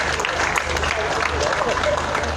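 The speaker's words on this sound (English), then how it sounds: "Applause, please, for our great judge, Mr. Jeff Boswell." An audience at a dog show for hound and utility breeds applauds the judge, a dense, steady patter of clapping mixed with voices.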